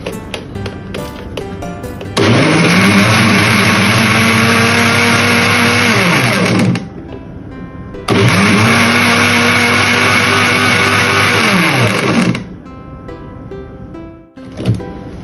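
A blender grinding watermelon with sugar syrup for lime juice runs loudly in two long bursts of steady whirring, each with a pitch that rises and falls, separated by a short pause.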